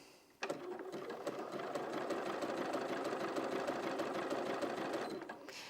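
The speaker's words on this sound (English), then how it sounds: "I can raise the presser foot, pivot, and start sewing again." A Bernina 475 QE sewing machine stitching, starting abruptly and running at a fast, even mechanical rhythm close up for about five seconds before stopping, with no talking.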